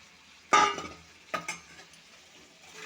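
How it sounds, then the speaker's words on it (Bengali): Taro and potatoes being stirred into a hot spice paste in a pan, giving two short bursts of scraping and sizzling close up, the first louder, then a quiet simmering hiss. "এটার সাথে ভালো করে মিশিয়ে একটু কষিয়ে নেব।"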